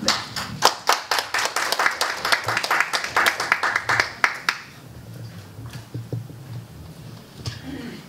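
Audience clapping in a lecture hall as a guest speaker at a leadership academy is introduced, a dense burst of many hands that fades out after about four seconds into quiet room noise with a few stray claps.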